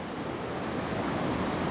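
River water rushes steadily where a big creek joins in gold-prospecting country, a continuous broadband wash with some wind buffeting the microphone and no talk.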